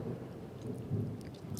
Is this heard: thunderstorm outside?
yes